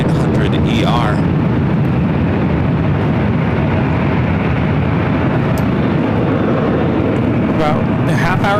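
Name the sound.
Delta Airlines Boeing 737-900ER arriving at LAX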